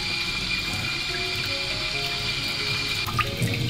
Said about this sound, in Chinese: 粉肠稍稍抓洗一下就好